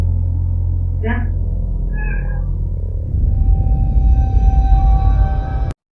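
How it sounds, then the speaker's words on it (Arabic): A cat meows twice, two short clear calls close by over a low steady background hum, followed by a rising rumble before an abrupt cutoff. "حتى القطة كانت خايفة لما نزلت من السرير بسرعة لما حست بشي"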